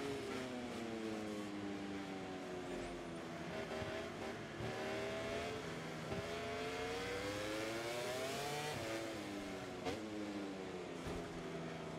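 A racing motorcycle engine in the MotoGP 24 video game drones continuously at high revs, its pitch rising and falling as it shifts through gears, steady and prominent throughout.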